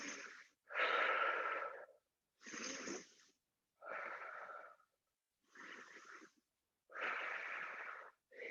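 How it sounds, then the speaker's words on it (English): Slow, deep yoga breathing held in a pose, audible airy inhales and exhales alternating in a steady rhythm, several breaths in a row, close and soft with silent gaps between. "We're breathing 3 breaths here."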